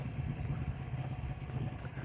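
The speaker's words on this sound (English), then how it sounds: "Would it be useful to have a tractor sample?" A tractor engine runs in the Korean countryside with a steady low chugging idle, moderately distant and faint, holding constant through the short stretch.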